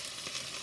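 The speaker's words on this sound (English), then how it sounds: "You will brown the meat in one side." Beef browning in a pot, giving a steady, close hiss and crackle of sizzling fat with no talk over it.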